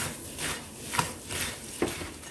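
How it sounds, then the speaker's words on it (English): Scraping and rubbing strokes of keto peanut butter granola ingredients being mixed in a bowl, a rhythmic swish roughly every half second, close and fairly quiet with no talking. "Now we just want to mix all this together."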